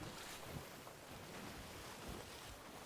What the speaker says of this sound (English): Enjoy the waves.